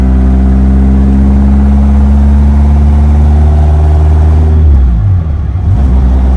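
A 1964 Alfa Romeo Giulia TZ's 1.6 liter engine runs loud and close with a steady mid-pitched hum, then briefly revs and dips before settling again, with no talk over it.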